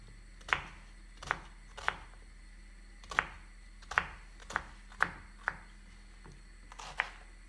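Sharp knife chops onions on a cutting board, about ten irregular strikes, close and clear, with no talking.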